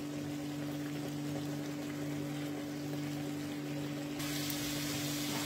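Water simmering and boiling off in an uncovered pan on a gas stove while cooking a chilli omelette, a steady dense hiss and bubbling crackle throughout, close and even, with a faint constant hum beneath.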